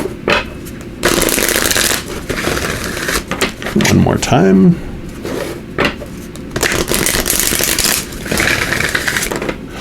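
Oracle cards are shuffled in several rapid, crisp riffling bursts close to the listener, with a person speaking briefly between them.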